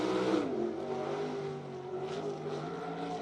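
A race car circles the BAPS Motor Speedway dirt track in York Haven, Pennsylvania, its engine holding a steady, fairly loud drone with a slight pitch dip early on and no voices over it.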